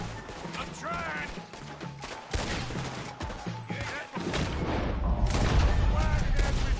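Gunfire in Red Dead Redemption 2 erupts as a dense fusillade of overlapping shots and crashes, loud and continuous under frantic shouted voices.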